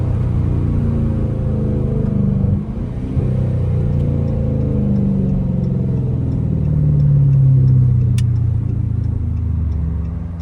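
A car engine revs after a downshift on bumpy city streets at 2 a.m., a loud, close, low rumble that swells and holds, heard from inside the car with no talking.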